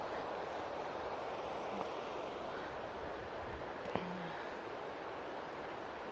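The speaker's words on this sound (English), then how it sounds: "all you can hear is the river" The River Ness flows in a steady, broad, even wash of moving water heard from nearby, with a faint brief knock partway through and no voices.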